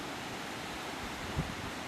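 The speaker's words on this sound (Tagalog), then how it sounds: "Napakalaki po ng mga alon dyan." Large ocean waves and wind during a typhoon make a steady, broad roar of surf and gusting air with no voices.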